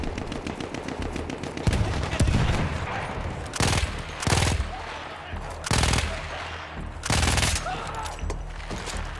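Battlefield 1 combat: rapid machine-gun fire crackles steadily, punctuated by four or five loud, close bursts of heavier shots at roughly regular intervals, with dense battle noise throughout.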